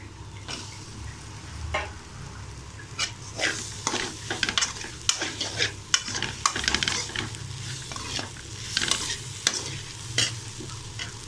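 Plantain pieces frying and sizzling in oil in a pan, with a utensil repeatedly scraping and stirring, clinking against the metal at an uneven pace.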